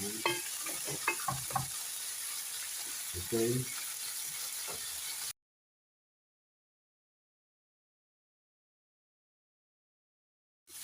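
Chicken liver fries with ginger and red onion in a pan, giving a steady, moderately loud sizzle with a few stirring scrapes for about five seconds before the sound cuts off to silence.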